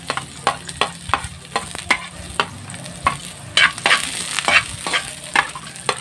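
Garlic sautés in a hot pan, a steady sizzle under repeated sharp scrapes and clanks of a utensil stirring at a brisk, uneven rhythm, with no talking.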